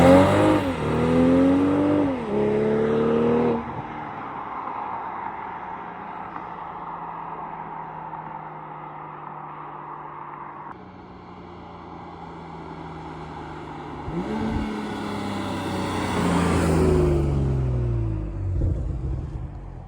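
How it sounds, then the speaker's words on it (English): A 2022 BMW M240i heard from outside, its engine blipped in sharp revs that rise and fall, then settling into a steady idle before another loud rev builds and fades. No one speaks. "I'll now get some revs of the car in comfort versus it in sport mode with the valve open and closed."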